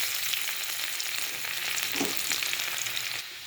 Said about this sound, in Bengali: এবার আমি রসুন কুচিগুলো দিয়ে দেবো